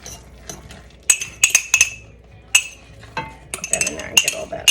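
Metal spoon stirring egg yolk into mushroom risotto in a pot, with a series of sharp clinks and scrapes in irregular clusters, close and clear.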